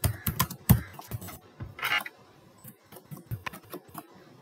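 Fingers type on a computer keyboard while a diagram is drawn in software, with quick uneven bursts of clicky keystrokes close up and a louder thump near the start.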